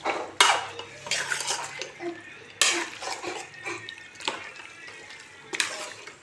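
A spoon scrapes and clanks against a metal pot while mutton with turmeric is stirred for a mutton kuzhambu, with sharp intermittent metallic knocks and scraping between quieter moist shuffling, close and fairly loud.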